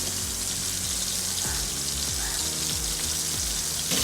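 Bombil fish (Bombay duck) frying in hot oil on a gas stove gives a steady, dense sizzle throughout. A few soft utensil knocks land on top of it.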